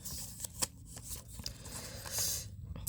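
Tarot cards are shuffled close up in a series of quick papery flicks and riffles with soft taps, no voice over them.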